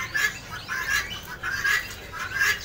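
Cipo birds crowded together in a shop at a bird market, giving a busy chorus of high, repeated chirps and tweets with some wing flutter, close and steady throughout.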